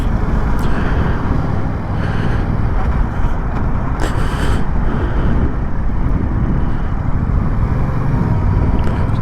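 A 2024 Yamaha MT-07 motorcycle on the move, its engine running loud and steady under heavy wind rush over the microphone, with continuous road noise throughout.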